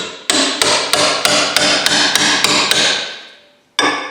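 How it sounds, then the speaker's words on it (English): Sharp metal-on-metal hammer blows drive a cold chisel behind the alternator case of a Generac RV generator, about nine steady, evenly spaced strikes ringing out close and loud, a pause, then one more hit. "I just drove a old cold chisel behind there, put a little bit of pressure on it"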